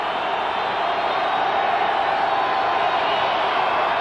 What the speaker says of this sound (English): Crowd noise intense for Esiason on second down and 10.